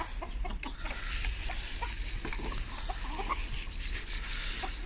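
Silkie chickens at feeding time make soft, scattered clucks and short calls over a steady rustling background, fairly close and moderately quiet, with no talking.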